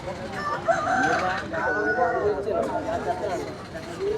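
A rooster crows at the busy Vaddadi weekly market, where chickens and goats are sold, its drawn-out call rising over steady crowd chatter and nearby talking voices.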